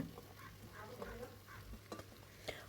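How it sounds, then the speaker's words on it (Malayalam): Four large onions frying in a pan for chicken biryani masala make a quiet, close sizzle, punctuated by several soft scraping stirs and clinks at irregular intervals. "ഞാനിതാ ഉള്ളി ഇട്ട് കൊടുക്കുന്നുണ്ട്"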